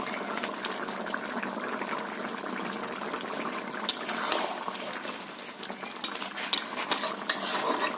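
A hilsa fish curry with potato and aubergine is stirred in a pot after coriander leaves go in, making continuous soft bubbling and wet stirring with clinks of a metal spoon against the pot that grow louder toward the end.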